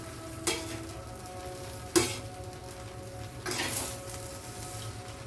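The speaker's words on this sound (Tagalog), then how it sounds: "haluin natin" Special noodles stirred in a pan, with a steady sizzle throughout and a few sharp scrapes and clinks of a utensil against the pan at intervals.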